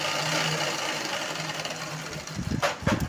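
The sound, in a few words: sewing machine stitching a long frock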